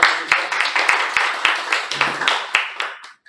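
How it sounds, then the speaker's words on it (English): Applause at a Toastmasters club meeting: a small group clapping in a brisk, fairly regular rhythm of sharp, close claps that stop after about three seconds. "let's give a huge round of applause to our Sergeant Arms for today's meeting"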